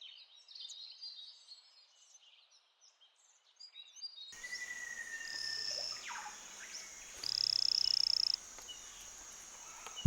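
Mimic poison dart frog (Ranitomeya imitator) on a damp Amazon forest floor, with faint high chirps and calls over quiet at first, then a dense insect-like chorus with repeated buzzing trills, moderately loud.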